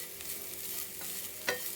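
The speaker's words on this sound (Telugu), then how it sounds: "ఇలా కలిసే వరకు తిప్పుకొని కొద్దిసేపు ఫ్రైకి వేపుకోవాలి." Carrot and coconut fry with masala powder being stirred in a pan, a soft continuous sizzle broken by a few quick spatula scrapes, one slightly louder near the end.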